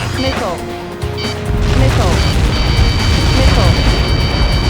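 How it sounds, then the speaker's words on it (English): A massive blast from an EPS projectile impact in the video game Ace Combat 7 swells into a loud, sustained roaring rumble under steady jet engine noise and radio chatter. "How many got caught in that explosion?"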